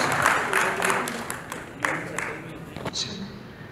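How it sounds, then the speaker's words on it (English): Audience at an awards ceremony clapping in a thinner, uneven burst of applause that fades out over a few seconds, with a voice speaking faintly over it. "Ladies and gentlemen, a huge round of applause."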